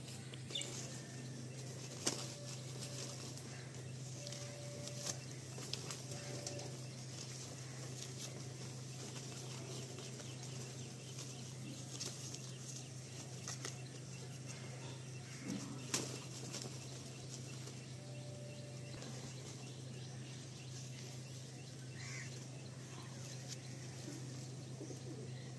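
Andhra pigeons flying around a loft coo faintly and at a distance over a steady low hum, with an occasional soft wing flap or patter.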